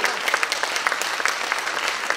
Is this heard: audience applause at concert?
yes